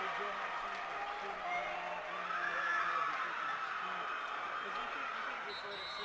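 A home crowd for St. Mary's at a Class 3A state high school volleyball match rises to its feet, a steady wash of cheering and applause with a commentator talking over it.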